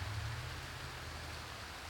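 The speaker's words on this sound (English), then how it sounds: "It's about 58 degrees and rainy." Steady rain falls around a ground hunting spot in pine woods on a cool autumn evening, a soft continuous hiss with a low rumble beneath.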